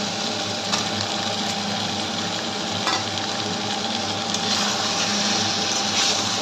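A fish head fries in oil in a pan for Bengali kanta chorchori with potatoes, giving a steady close sizzle and crackle with a few light clinks of a utensil, no talking.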